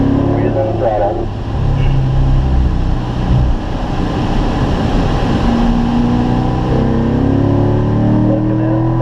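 A Corvette accelerates on a race track at a driving school, its engine droning loud and close with rising tones, while a driving instructor talks over it.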